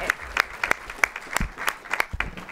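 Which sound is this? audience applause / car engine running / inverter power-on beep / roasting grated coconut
audience applause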